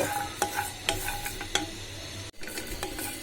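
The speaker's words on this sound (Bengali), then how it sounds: "আমি এখানে রসুন তেলে নিচ্ছি" Two kinds of garlic, local and large cloves, frying in oil for a Bangladeshi beef vorta: an even close sizzle broken by several sharp utensil knocks against the pan and one brief dropout, with no voices.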